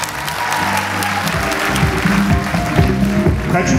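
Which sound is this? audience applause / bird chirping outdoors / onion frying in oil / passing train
audience applause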